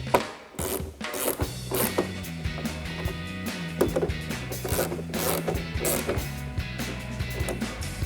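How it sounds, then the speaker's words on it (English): A 10mm ratcheting wrench tightens the nuts holding a GT-style rear spoiler on a 2024-2025 Mustang, giving rapid, steady ratchet clicks close up across the whole span, with some broader mechanical clatter mixed in. "take a 10mm ratcheting wrench, tighten those down"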